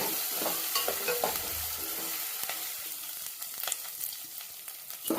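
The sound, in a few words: frying fresh ginger paste in a pan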